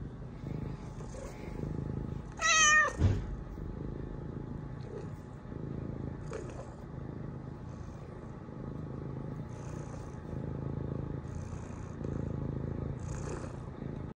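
A neighbor's cat purrs in a soft, steady low rumble close by, broken once by a short, sharp meow and a few faint shuffles.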